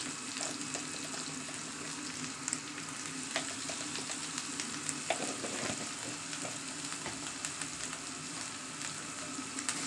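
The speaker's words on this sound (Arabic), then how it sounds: "اشوح تقليبتين كمان" Ground meat stir-frying in a pan after salt and black pepper go in, a steady close sizzle and crackle running throughout with occasional scrape-like stirring clicks, no voices.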